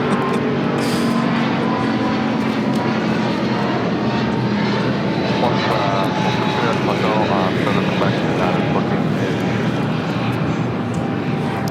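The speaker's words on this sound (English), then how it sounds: "This is United Airlines 1890 taking off to Newark on a 777-200" A United Airlines Boeing 777-200 takes off from LAX with a loud, continuous engine roar and rumble. Speech can be heard over the engine noise at points.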